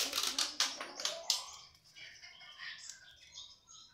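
Birds being packed for shipping give quick, high chirps among sharp clicking and tapping handling noises, loudest at first, then thinning out into softer scattered calls.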